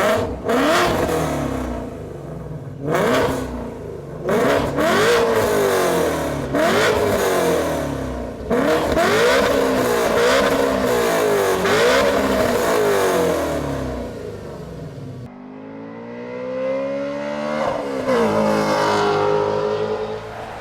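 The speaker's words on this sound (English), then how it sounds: "the only thing we got left is to hear the final version of the stepped headers and the Z pipe" Ford Mustang GT350 fitted with stepped headers and a Z-pipe exhaust, revving repeatedly in sharp rising bursts with brief dips between, loud and close, then settling into a rougher, lower run at the end.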